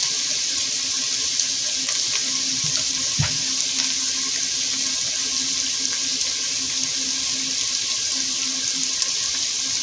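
Beef broth pours in a steady, continuous liquid stream for about ten seconds, close and fairly loud, sounding much like running tap water, with one small clunk partway through and no speech.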